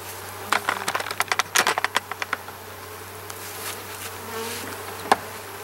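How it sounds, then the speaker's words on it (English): Honey bees in an opened backyard hive in its second summer hum steadily up close, with a quick flurry of sharp ticks and taps early on and one more tap near the end. "You see there's a decent amount of bees in there."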